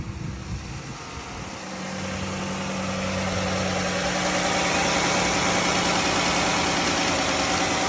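A 2012 Chrysler Town & Country engine settles into a steady idle just after starting, its even mid-pitched rumble with a light ticking texture growing slightly louder and continuing unbroken, with no talk.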